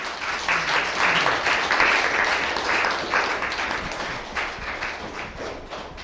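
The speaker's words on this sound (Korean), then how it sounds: "여러분 큰 박수 부탁드릴게요" Warm audience applause at a Christian book concert as author Park Sang-jun is welcomed to the stage, dense and steady clapping from a seated crowd that gradually tapers.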